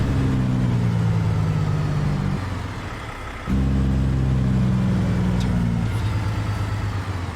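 Heavy truck engine in American Truck Simulator drones loud and steady, dropping out briefly for a gear change as it downshifts into fourth, then resuming a deep low rumble.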